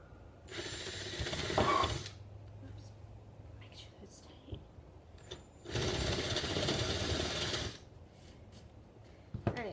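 A drill boring a hole into wood with light pressure, heard in two separate whirring bursts of roughly one and two seconds with quiet gaps and small clicks between.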